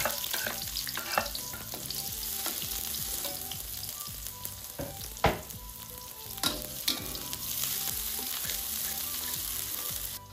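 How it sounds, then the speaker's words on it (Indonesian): Shallots and garlic sautéing in hot oil in a wok, a continuous bright sizzle with occasional louder scrapes and knocks of a spatula against the metal, close and steady throughout. "masukkan perbawang-bawangan, tumis hingga harum"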